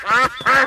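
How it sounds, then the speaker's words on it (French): Two quick, bright quacks from ducks in the Peppa Pig cartoon, loud, close and nasal, following one another within a second. "Oh, voilà les canards."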